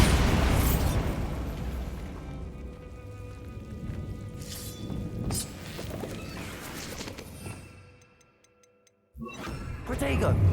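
A Bombarda blasting spell bursts in Hogwarts Legacy, a heavy booming explosion at the start that rumbles and crackles away into game ambience, cut by a short silence before sound resumes.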